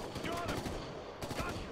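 Gunfire in the video game Ghost Recon: Future Soldier, with rapid bursts of automatic shots crackling in quick succession, dense and fairly loud, briefly easing before another volley.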